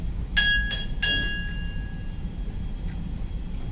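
Ship's bell at a Navy retirement ceremony, two bright metallic strikes in a quick pair, clear ringing tones that hang and fade slowly, with a faint clink afterward.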